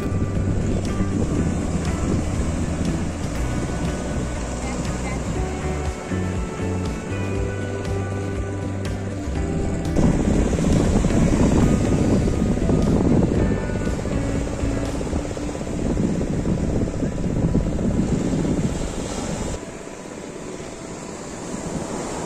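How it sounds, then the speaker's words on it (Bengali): Sea water surges through the mouth of a creek at Ramachandi beach with a continuous loud rushing roar, buffeted by heavy wind noise on the microphone. "সমুদ্রের জল এই সি মাউথ দিয়ে খাড়িতে ঢুকছে।"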